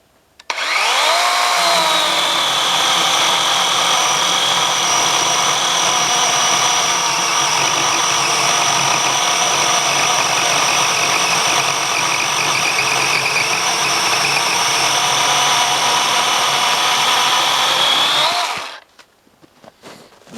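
A 20-volt cordless chainsaw with a 9 amp-hour battery and 14-inch bar cuts through a frozen, dead spruce log, a loud, steady high-pitched electric whine held for about eighteen seconds before stopping abruptly.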